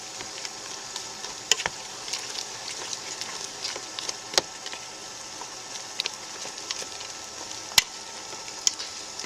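Goulash being stirred in a pot, a soft steady simmering hiss dotted with sharp scraping clicks and taps of a utensil against the pot, fairly close with no talk.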